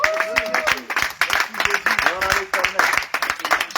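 A church congregation claps and cheers in praise during a French-language worship service, steady rhythmic applause mixed with voices singing and shouting throughout.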